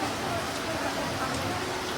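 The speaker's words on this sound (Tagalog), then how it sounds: "So, malakas na yung ulan." Dense, steady wash of heavy rain pouring down, constant and close with no breaks.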